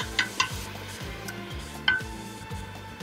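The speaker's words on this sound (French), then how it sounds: "il faut qu'il y ait beaucoup d'oignons que l'on laisse confire comme ça à feu doux" Onions confit slowly over low heat in a pan, giving a soft steady sizzle with a few light stirring clicks and taps on top, alone and fairly quiet.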